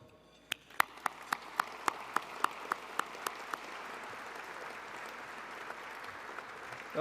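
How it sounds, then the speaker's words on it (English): A handful of sharp, separate claps from an audience at a gala ring out in a quick, slightly uneven rhythm for a few seconds, then stop, leaving a quiet room hush. "I do think it appropriate to applaud last year's recipient of the Athens Prize, Curtis Runnels."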